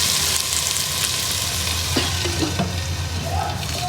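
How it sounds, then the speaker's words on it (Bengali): Potatoes fry in a pan, giving a steady, close sizzle broken by a few soft scrapes as they are stirred. No one speaks. "আলুগুলো দিয়ে নাড়তে থাকবে। তারপর একটু ঢাকা দিব, ভাজতে হবে"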